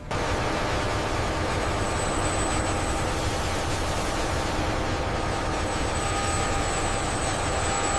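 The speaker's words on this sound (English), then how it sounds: "Engine start sequence initiated." Kamov Ka-50 coaxial-rotor attack helicopter engine idling after start-up, a steady loud broadband roar with a faint high whine running throughout, no voices.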